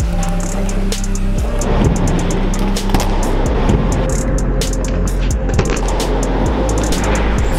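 A stunt scooter performing a twix trick, with rolling wheel rumble, rattling deck clatter and sharp knocks and scrapes as it lands and grinds, loud and close over a constant low drone.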